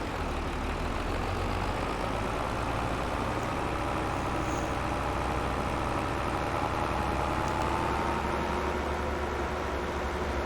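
Tractor engine in Farming Simulator 22 driving slowly downhill, a steady low drone with broadband rumble and hiss running unbroken throughout, no talk.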